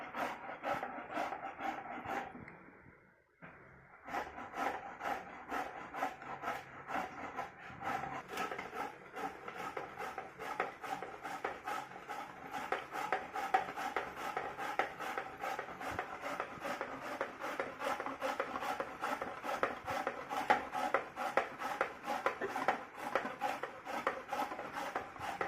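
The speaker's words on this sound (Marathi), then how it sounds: "आई गाजर खिसून घेत आहे खिसणीच्या साह्याने." Peeled carrots being grated by hand on a metal grater for carrot halwa: fast, regular rasping strokes repeat steadily and close up after a brief pause near the start, with no voices.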